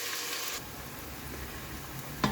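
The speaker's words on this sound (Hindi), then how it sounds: "प्याज फ्राई हो रही है।" Onions fry in a pan for a potato and egg curry, giving a steady, moderately loud sizzle that carries on alone with no talk, marked by one brief clink near the end.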